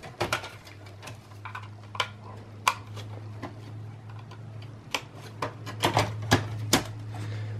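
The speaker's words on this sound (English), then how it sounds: "installing back the caddy, plastic caddy here for the hard drive" A plastic hard drive caddy being fitted back into a Dell Optiplex 5050 desktop, with a series of sharp plastic clicks and taps over a steady low hum, no one speaking.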